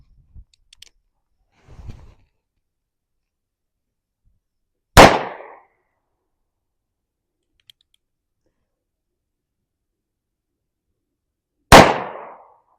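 A .22 Magnum Colt Peacemaker revolver fires two sharp, loud shots at a target several seconds apart. Faint handling clicks and rustles come before them in an otherwise quiet setting.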